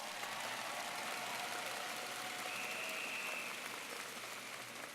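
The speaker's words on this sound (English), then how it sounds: "let's give them a big round of applause again" Sustained, dense applause from a large convocation audience honoring teachers and a student, steady and loud throughout with no speech over it.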